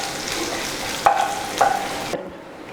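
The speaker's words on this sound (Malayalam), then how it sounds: "നന്നായിട്ട് മിക്സ് ചെയ്ത് കൊടുക്കുക. ഉള്ളി ലൈറ്റ് ബ്രൗൺ കളർ ആവുന്ന വരെ." Onions and curry leaves frying in hot oil for coconut chutney, a loud continuous sizzle broken by two metallic clinks of the stirring spoon against the pan, then a sudden stop.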